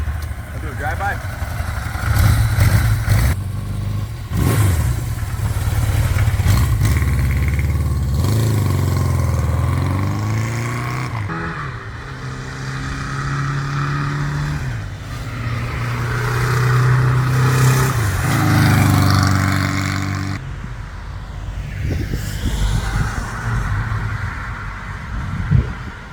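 A 1982 Suzuki GS1100L motorcycle with carburetor trouble on a riding demo, its engine loud and near, revving and rising and falling in pitch as it pulls away and passes by through several gear changes.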